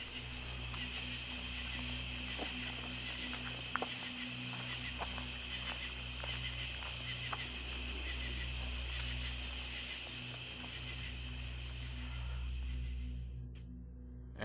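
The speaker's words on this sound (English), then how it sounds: "For 10 minutes we sat outdoors and endured the insects" Insects chirping and droning outdoors at night near the Pollak Hospital, a steady high-pitched chorus with a constant low hum beneath, persisting evenly and fairly loud before cutting out near the end.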